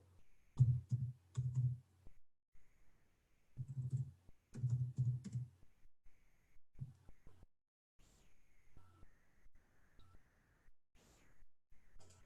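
Bursts of key taps on a computer keyboard come in quick clusters separated by pauses, with a few isolated clicks near the end, close and fairly quiet.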